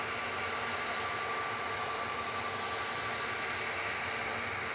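A TUI Boeing 737-800 jet departing Manchester Airport roars with a steady, loud, broadband engine rumble and whine that holds evenly throughout, with no voices.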